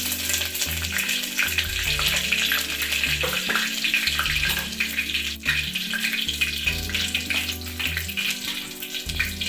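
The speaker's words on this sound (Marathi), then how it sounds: "फोडणीसाठी तेल टाकलेलं आहे याच्यात जिरं टाकूया" Cumin seeds and curry leaves sizzle in hot tempering oil for a Maharashtrian dal, a loud, continuous crackling hiss close by with small bursts and pops throughout.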